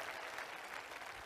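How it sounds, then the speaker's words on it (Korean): A brief, faint wash of steady applause comes from a distant audience at an outdoor talk concert held during a city citizens' budget festival. "여러분 박수 한번 부탁드리겠습니다"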